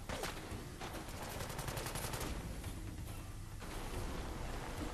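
Rapid sustained gunfire from the video game Fallout 4, a dense continuous volley of shots with bursts layered together, loud and steady throughout with no talking.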